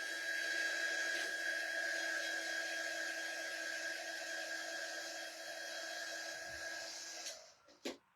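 Steady whirring hair dryer blowing on a craft sunflower watering can, loud and continuous up close, then cutting off with a couple of handling knocks at the end.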